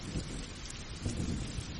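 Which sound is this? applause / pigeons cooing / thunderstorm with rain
thunderstorm with rain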